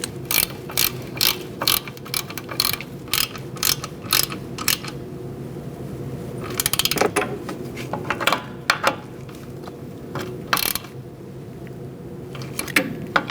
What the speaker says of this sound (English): Now that you have them both started, you're going to tighten them down and snug them up.